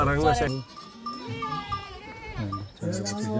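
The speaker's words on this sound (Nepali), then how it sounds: "च्याङ्रा गोठ यो च्याङ्रा गोठ लगायो" Chyangra Himalayan goats bleat inside a goat shed: a loud wavering call at the start, softer overlapping bleats in the middle, and another strong bleat near the end.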